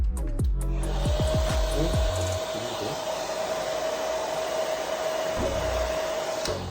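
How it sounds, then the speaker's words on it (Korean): A hair dryer blows steadily and close on the roots of a man's hippie-permed hair as it is styled for volume, a continuous airy roar after a few brief handling knocks at the start. "밀고 거기다 드라이기어를 쐬줍니다."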